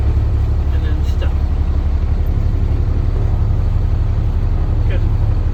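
A vehicle creeps forward in drive for a short distance during a service brake test, its steady low engine rumble continuous and fairly loud throughout with no voices.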